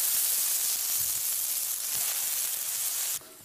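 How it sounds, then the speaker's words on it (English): Steady, bright sizzling hiss of food frying, continuous and fairly loud, cutting off abruptly near the end. "these are sizzling up pretty good"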